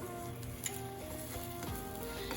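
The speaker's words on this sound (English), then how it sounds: "I'm cooking the egg like an omelet style and I'm not scrambling it" An egg cooks omelet-style in a pan with a steady, close sizzle and faint crackle throughout, plus a few soft scrapes and light pan knocks.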